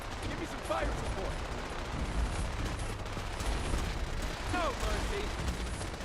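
Fallout 4 combat: muffled gunfire and artillery booms rumble continuously at mid-distance under a steady battle din, while a voice speaks briefly.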